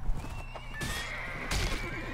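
Horse neighs in a Red Dead Redemption-style Western video game, two loud whinnies about a second apart over steady game ambience, with no talking.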